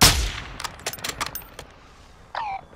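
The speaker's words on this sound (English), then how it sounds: "Hayi mani unama-gunshots nje la eduzane" Gunfire rings out in a Call of Duty match: a sharp opening blast, then a ragged burst of five or six quick shots at mid distance, a short pause, and a brief metallic whine near the end.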